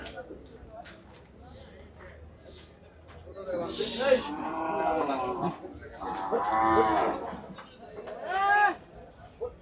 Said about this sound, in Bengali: কিছু গরু কিন্তু এরই মধ্যে ঢুকছে